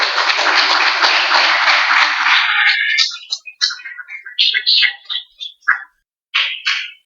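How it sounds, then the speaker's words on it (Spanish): An audience at a church sermon claps together loudly for a few seconds, then the applause breaks up into scattered, uneven claps and taps that fade out irregularly. "Denle un aplauso al juez justo."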